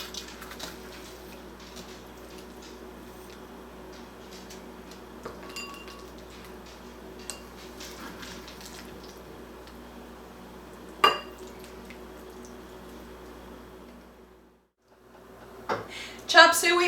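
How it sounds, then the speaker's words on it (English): Chop suey being scraped out of a pan into a bowl, with faint scattered clinks of utensil on cookware over a low steady background hum, and a few sharper knocks near the end. "let me see if I can get it out of this pan and into a bowl"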